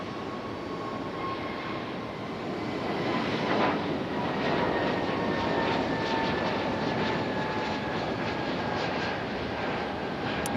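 A Frontier airliner jet departs Raleigh-Durham airport at night, its engines a broad, steady roar heard from a distance that swells slightly midway and holds strong to the end.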